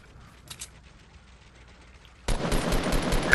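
Sudden burst of rapid gunfire in the video game Fortnite breaks in after a quiet stretch with a couple of faint clicks, a dense, loud rattle of shots continuing to the end.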